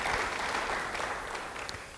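A church congregation applauds a sermon, a soft, steady wash of many hands clapping together for a couple of seconds, somewhat distant and gradually fading.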